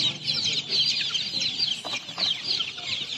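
Chickens at a market cluck steadily and close by in a dense, continuous flock chorus, with no voices heard over them.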